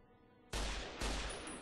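Two loud gunshots fired in Fallout: New Vegas, each a sharp crack with a long decaying tail, about half a second apart, and no talk over them.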